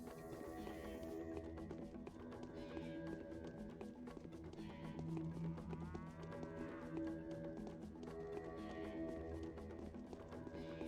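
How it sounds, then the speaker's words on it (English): Cattle moo again and again in the video game Pathologic, with several long, low calls over a steady background. There is no talking. "Hey, it's some cows."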